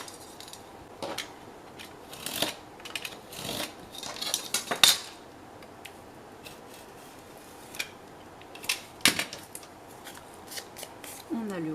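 Leather being cut straight with scissors or a blade for a steampunk leather album, a few sharp scattered snips and scrapes close by, separated by quiet stretches.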